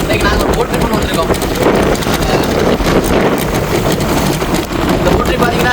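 Sudden rain and strong wind on a small boat out at sea off Sri Lanka, a loud continuous roar of wind buffeting the microphone with rain and water noise throughout.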